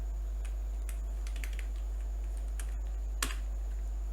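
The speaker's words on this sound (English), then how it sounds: "let me just write name here, Hornet." Sparse keystrokes on a computer keyboard as a name is typed at a Linux terminal on RHEL8, with a few light clicks and one sharper key tap over a steady low hum.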